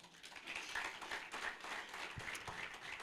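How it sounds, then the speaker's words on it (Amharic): A church congregation at a gospel service claps along in scattered, uneven bursts, fairly faint and distant, with a few sharper individual claps standing out near the end. "አጨብጭቡ ለዚህ ጌታ።"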